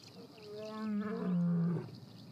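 A male lion lets out a single drawn-out, rising and falling roar lasting over a second, fairly clear against quiet wild surroundings.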